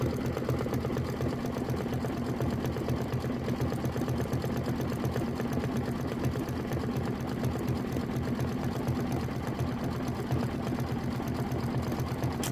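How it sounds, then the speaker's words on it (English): A sewing machine runs steadily for the whole stretch, stitching a decorative stitch down the center of a small appliqué quilt in white thread, its fast, even mechanical hum close and continuous. "then you're going to do this little decorative stitch that goes down the center of the applique"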